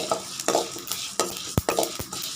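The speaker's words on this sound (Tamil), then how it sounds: "நல்லா வறுக்கட்டு பொரியுது பாருங்கள்" Sesame seeds popping and sizzling in a hot pan while a spoon stirs and scrapes in quick irregular strokes, close and clear with no talking.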